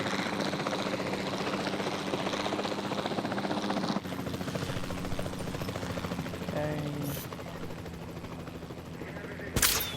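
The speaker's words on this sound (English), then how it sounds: "Then the sensible thing is to take a capture team helicopter." A capture team helicopter in the video game Jurassic World Evolution 2, a continuous loud rotor drone with a few sharp tranquilizer shots, while someone talks over it.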